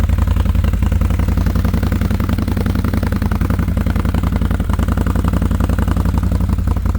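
A 2024 CF Moto ZForce 950 Sport 4 side-by-side idles close to the microphone, its exhaust giving a loud, even, rapid pulsing thrum that stays constant without revving.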